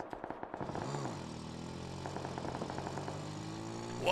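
A scooter engine in PUBG sputters to life, then revs up and settles into a steady, buzzing mid-pitched idle, fairly close and moderately loud.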